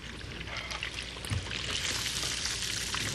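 Fried fish draining in a basket or strainer, with a steady sizzling, trickling hiss of oil running off throughout and a brief clunk partway through.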